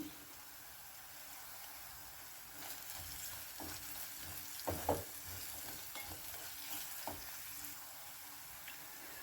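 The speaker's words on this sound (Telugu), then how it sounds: "ఇది పచ్చివాసన పోయేంత వరకు వేయించుకోవాలి" Ginger fried with turmeric in a pan for chicken curry: a quiet, steady sizzle with scattered stirring scrapes and a few louder clatters partway through, no talk.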